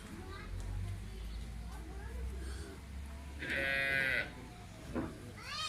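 A buffalo cow at a livestock farm lets out a single drawn-out moo in the middle of the stretch, heard nearby over steady background noise and other farm sounds.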